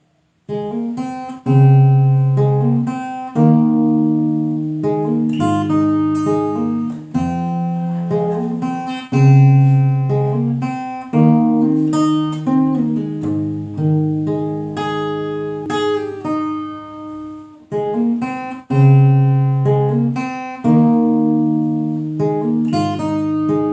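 An acoustic guitar plays a fingerpicked intro chord progression starting on C, plucked notes ringing over bass strings, moving through several chords at an unhurried, even pace.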